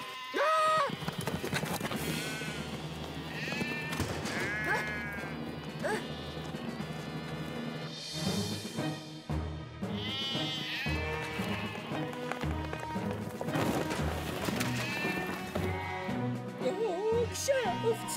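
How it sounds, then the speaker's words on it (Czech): Cartoon sheep from a circus act bleat repeatedly as a flock runs loose around a seaside town, mixed with lively music, possible clip-clop hooves and a speaking narrator. "Po celém Pontypandiově pobíhá stádo ovcí."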